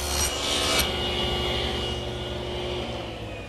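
A router bit cuts a groove as a wooden bench piece is pushed along it between two mortises, making a loud buzzing rasp that is sharpest at the start and then eases into a steady hum of the running router.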